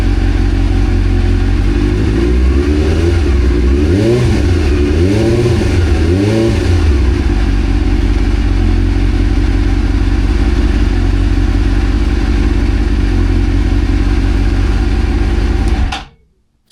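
A 1999 Suzuki GSX-R600 motorcycle, a 1990s barn find, runs at a steady idle after its first start. Several sharp throttle blips rise and fall early on, then the engine settles to a close, even idle until it cuts off abruptly.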